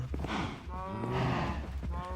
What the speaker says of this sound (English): Just too bad of the cows with making the noise.